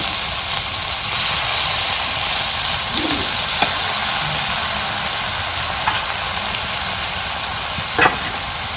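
Fresh garden greens tempered in hot oil in a village kitchen sizzle loudly and continuously up close, with a few sharp clicks and scrapes of stirring.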